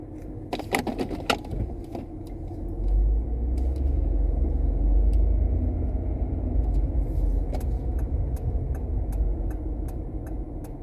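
A car driving across town on a winter morning, with a steady low engine and road rumble building after a few seconds, sharp jingling and ticking clicks near the start, and occasional faint ticks later, no talking.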